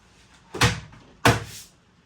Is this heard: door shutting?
yes